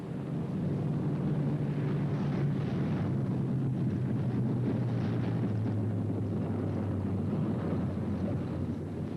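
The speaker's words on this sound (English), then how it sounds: "36 planes left this field this morning. Now 6 more arrive." World War II bomber planes arriving at an airfield, a continuous low droning of piston engines with a steady hum, heard from a distance under wind noise and without any break.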